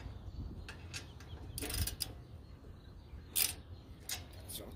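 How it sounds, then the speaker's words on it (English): A hand ratchet clicks in a few short separate bursts while testing Channellock GL10 pliers, quiet and close with no talking. "I'm gonna start off with using the ratchet"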